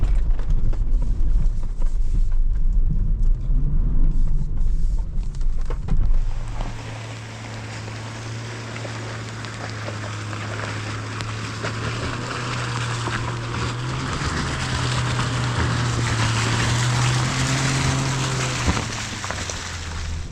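A 2025 Range Rover Sport P460e plug-in hybrid climbs a rutted off-road slope in low range at its highest ride height, giving a steady close engine and drivetrain drone over rough wind and road rumble for the whole stretch.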